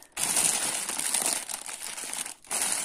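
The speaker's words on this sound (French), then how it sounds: "je la mets dans mon papier et je vais bien l'entourer" Glossy paper crinkles and rustles close up as it is wrapped snugly around a green tomato, a steady dense crackle lasting a couple of seconds with a brief pause before more crumpling.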